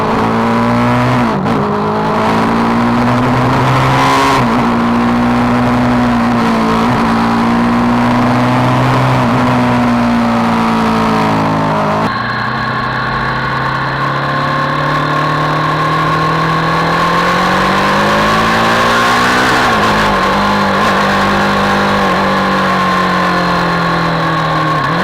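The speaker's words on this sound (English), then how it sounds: "I would like you to hear how this exhaust sounds, how this bike sounds" A BMW G 310 R motorcycle's exhaust revs up and settles repeatedly, close and loud, its engine pitch rising and falling over a steady rumble without any talking.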